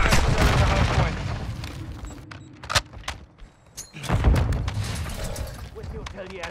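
A grenade explosion and gunfire in Modern Warfare 2 multiplayer: a heavy rumbling blast, then sharp scattered shots and clicks over a quieter stretch, and another boom with more firing, mixed with game voice callouts.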